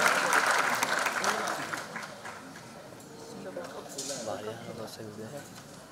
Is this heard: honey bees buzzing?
no